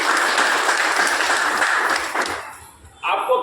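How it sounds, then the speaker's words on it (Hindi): A live seminar audience breaks into loud, sustained applause for a set of products, the clapping dense and steady before tapering off, with a brief bright sound near the end. "तो मैं चाहूंगा हमारे प्रोडक्टों के लिए एक बार दमदार तालियां हो जानी चाहिए"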